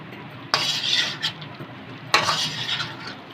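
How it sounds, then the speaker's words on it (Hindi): Chicken karahi is stir-fried in a wok with a low, steady sizzle. Two loud bursts of metal spoon scraping and clattering against the pan come about a second and a half apart, with no talk. "ये देखिए अभी हम इसको भूनते रहेंगे तो तमाम मसाले इसमें मिक्स हो जाएंगे।"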